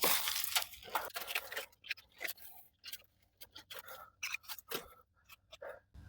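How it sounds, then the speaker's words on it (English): A screwdriver peels seized rubber off a vehicle body mount bushing cut through to the core, producing close, irregular tearing and scraping bursts with short gaps between them. "you can get your screwdriver in here and just peel it off"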